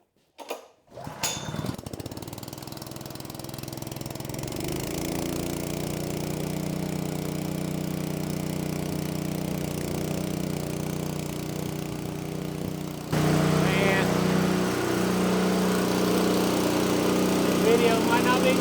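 A Honda GX160 engine on a Titan PB-4700 pressure washer cranks with a brief pull, catches, and settles into a steady, buzzing run that grows slightly louder near the end, with a person talking nearby.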